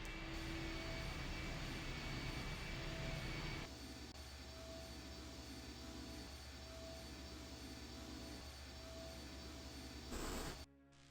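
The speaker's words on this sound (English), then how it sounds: "The engine's starting up again." Aircraft engine in a video game spools up into a steady, loud jet-like roar, with a change in tone partway through and a sudden cut near the end.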